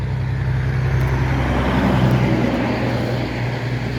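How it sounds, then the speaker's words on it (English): Steady road traffic rumble on a street in Saint Paul, Minnesota, with passing trucks, a continuous low engine drone at fairly loud level with no speech over it. "Sorry about the traffic noise"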